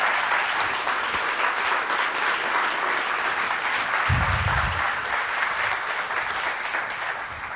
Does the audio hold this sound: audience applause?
yes